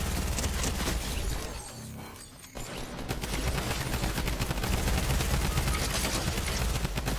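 SMG gunfire in the Fortnite video game, dense and continuous rapid shots at loud volume with a brief lull partway through, no talking.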